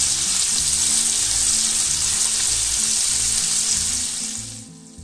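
Skinless chopped calabresa sausage fries in a pan for arroz carreteiro, a loud, dense, continuous sizzle that holds steady for several seconds and then fades near the end.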